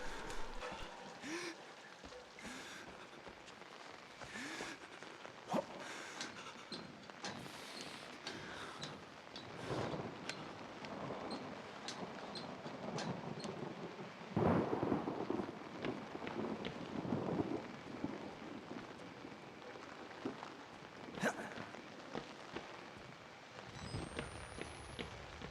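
Rain and rumbling thunder in the horror video game Outlast form a steady, dense wash of noise throughout, with occasional louder swells and crackles standing out from the constant downpour.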